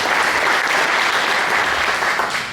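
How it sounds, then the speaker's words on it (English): An audience at a touchdown club meeting gives a steady round of applause, dense clapping that stays loud for a couple of seconds before tapering slightly. "Please give them a round of applause for attending today's meeting."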